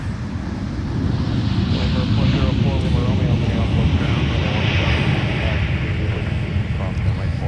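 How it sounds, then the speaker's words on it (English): Delta Boeing 737-900ER taking off at Minneapolis–Saint Paul airport, a steady broad engine roar with wind noise that swells after the first second and holds loud throughout, with faint talk over it. "Another Delta flight. And I think you can guess the aircraft type. Goes without saying, another Boeing 737-900ER."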